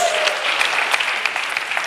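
A church congregation claps during a sermon, a dense steady patter of many hands filling the space with a faint tonal sustain fading early, no voices standing out.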